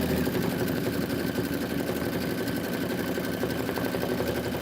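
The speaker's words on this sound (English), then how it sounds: "Okay, let it stitch out the detail." An embroidery machine stitching out a detailed design runs steadily and continuously at close range, a dense mechanical whir with fast repeating stitch rhythm and no talking.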